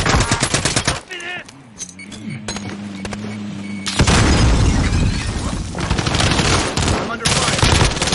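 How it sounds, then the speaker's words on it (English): Rapid video game gunfire in Rebirth, bursts of automatic shots and heavy booms, loud and close, with a quieter stretch in the middle where a steady tone and some voice-like sound sit under scattered shots. "I'm under fire."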